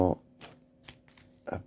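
Playing cards are shuffled and moved around on a surface, giving a few soft, brief papery swishes in quick, irregular succession, close and quiet.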